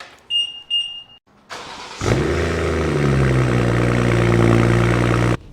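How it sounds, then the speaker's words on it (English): A BMW X3 M40i engine starts after a couple of short chimes, firing up with a loud burst and then settling into a steady, rumbling idle that fills the rest of the clip. "All right, starting my car."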